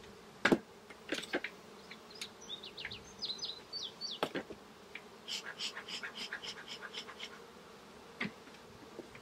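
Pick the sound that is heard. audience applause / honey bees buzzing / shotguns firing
honey bees buzzing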